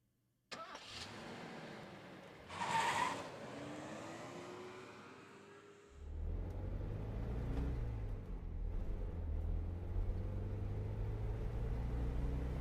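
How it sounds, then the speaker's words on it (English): A car in the video game Spirit Hunter: Death Mark starts up after a door clunk, then its engine settles into a steady low rumble as it pulls away from a parking lot and drives off. "I pull out of the deserted parking lot and drive back to the mansion."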